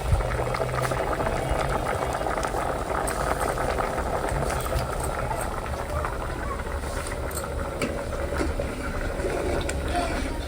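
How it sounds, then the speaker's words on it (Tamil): A pot of goat trotter paya stew boils hard with dense, continuous bubbling and gurgling, loud and close, with no pauses throughout. "சும்மா தக்க தக்க தக்க தக்க தக்கான்னு கொதிக்குது"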